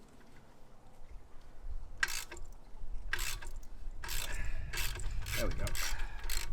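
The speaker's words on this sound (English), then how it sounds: "the clamp that holds the system to the headers. Loosen that up. Oof, that is tight." Ratcheting wrench loosening a tight exhaust clamp bolt at the headers of a Suzuki VanVan, heard close up as several bursts of quick clicking with grinding and rubbing between them, and one short spoken phrase.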